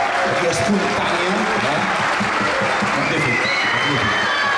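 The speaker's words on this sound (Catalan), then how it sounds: "un enorme aplaudiment pel Jaume Badrenes, que ha agafat la bateria d'una forma aquí espontània" Audience clapping at an outdoor town festival vermouth concert for a drummer who joined spontaneously, steady crowd applause mixed with cheering and voices, continuous and loud throughout.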